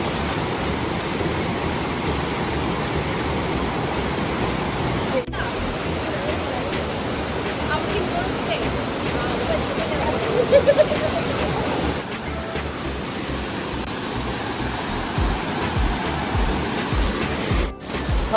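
Steady broadband rush of flowing stream water near a homestay at Vagamon, continuous and close throughout with no clear voices, shifting slightly in tone partway through.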